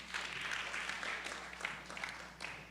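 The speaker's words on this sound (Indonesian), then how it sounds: "Berikan tepuk tangan bagi Tuhan." Applause from a church congregation, a steady wash of many hands clapping at moderate distance with a low hum underneath, continuing evenly throughout.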